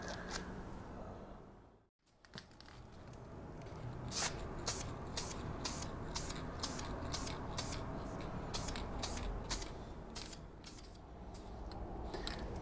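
An aerosol can of Brownells Aluma-Hyde II coats a rifle in a steady run of short, faint hissing bursts about twice a second, with a brief pause near the start.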